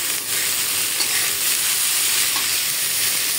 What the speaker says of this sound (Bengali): এখানে আমি করে নিচ্ছি অল্প করে করলা ভাজি।